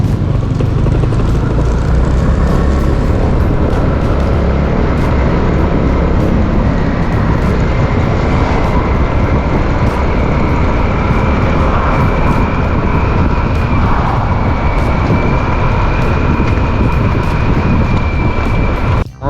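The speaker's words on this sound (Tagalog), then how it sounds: "Ang tipid ng motor na ito." Motorcycle ridden along a road toward Santa Teresita: a loud, constant engine drone with heavy wind rush runs unbroken for nearly twenty seconds, with a faint rising whine partway through.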